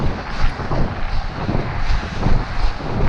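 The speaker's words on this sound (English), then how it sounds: "There's often a nasty crosswind." A nasty crosswind gusts across an open, snow-drifted field on a winter run, buffeting the microphone with a loud, continuous roar that swells and dips in gusts.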